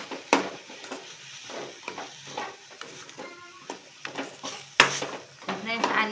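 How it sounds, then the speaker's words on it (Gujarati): A spoon stirs spiced momo stuffing in a pan, making repeated close scraping and clinking strokes against the metal with a soft sizzle underneath. "બધું મિક્સ કરી લઈશું એટલે સરસ મસાલા અંદર મિક્સ થઈ જાય."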